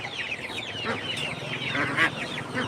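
Chickens cluck repeatedly at a busy poultry market, with scattered calls overlapping against a steady background murmur of the crowd.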